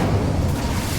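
The Incendio fire spell cast in Hogwarts Legacy gives a loud, dense roaring burst of flame with a heavy low rumble that fills the whole short moment without a break.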